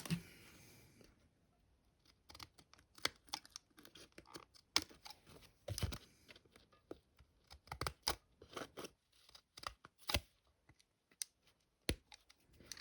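Paper being cut with scissors for an advent calendar craft: scattered crisp snips and rustles over a quiet room, irregular and close.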